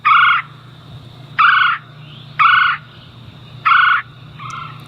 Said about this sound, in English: they make like a blurp, and if they're not making that sound, they make like a gurp, gurp, gurp